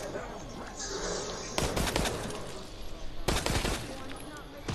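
Gunfire in the survival horror game Resident Evil Resistance, two sharp bursts of close shots about two seconds apart over a steady background hum, with voices talking now and then.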